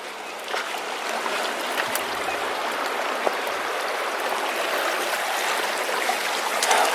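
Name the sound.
mountain stream flowing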